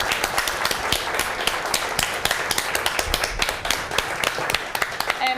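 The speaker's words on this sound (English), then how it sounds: "So, round of applause for Mr. and Mrs. Smith." An audience at a Scottish cooking gathering applauds for a couple, a moderate, fairly dense patter of clapping hands that continues steadily without a break.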